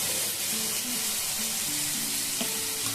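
Fried onions added to a pan of spicy chicken give a steady, loud, close hiss of sizzling oil that fills the whole moment, with faint stirring scrapes underneath.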